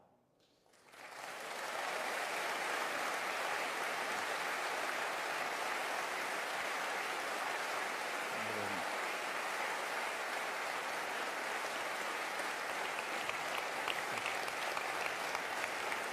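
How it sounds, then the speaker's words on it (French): Sustained, dense applause from a large crowd at a political rally at La Mutualité in Paris starts abruptly after a brief quiet moment and continues steadily at full strength throughout. "Vous avez raison d'applaudir."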